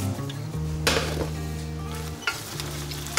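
Steady sizzling of onions frying in butter in a pan, with a few stirring scrapes and clinks of utensils, heard close up without talking.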